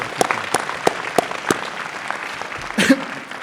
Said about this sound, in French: je crois qu'il faut l'applaudir